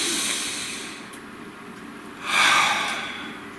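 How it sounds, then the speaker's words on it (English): A person takes a slow, deep breath close to the microphone, a long airy hiss that swells near the end and then fades, with no words spoken. "Nice deep breath."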